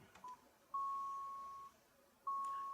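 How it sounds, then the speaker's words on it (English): An ACD office desk phone gives a short beep after agent login, then two long steady electronic tones separated by a pause, clear and close with no talking. "Your phone is going to beep and you're going to see that the work mode is flashing"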